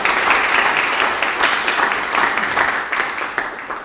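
Audience applause at a National Assembly News anniversary ceremony as a professor is introduced, a loud, sustained burst of many people clapping that gradually eases off.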